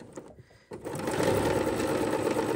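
A sewing machine runs a narrow seam on flowing fabric, starting with a short pause and then whirring steadily and loudly at close range.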